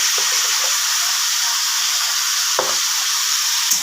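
Drumstick pods, potato and eggplant sauté in a pan with salt and turmeric, giving a loud, continuous, bright sizzle and hiss with a brief stirring scrape near the end and no talking.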